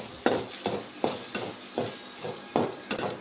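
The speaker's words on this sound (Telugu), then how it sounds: "ఉల్లిపాయలు కొంచెం బ్రౌన్ కలర్ వచ్చే వరకు వేయించుకోవాలి." Thin-sliced onions fry in oil for an egg masala curry, a soft sizzle broken by regular stirring scrapes, about seven evenly spaced strokes, close and alone.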